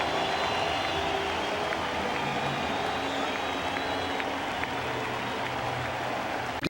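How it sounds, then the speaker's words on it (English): Fenway Park crowd giving a sustained ovation as pitcher Chris Sale leaves the game with two outs in the eighth inning against the Yankees, a broad, even roar of applause filling the ballpark without letup. "He leaves the game, 2 outs, 8th inning, gets a huge ovation from the Fenway crowd"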